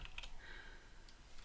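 A few quick, light keystrokes tap on a computer keyboard, close and quiet, in short bursts with soft pauses between them in an otherwise still room.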